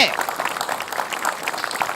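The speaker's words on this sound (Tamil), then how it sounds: "குழந்தைக்கு ஒரு பெரிய கைத்தட்டல் கொடுக்கலாங்க" A studio audience applauds a child at a kids' show, a dense burst of clapping with voices talking over it.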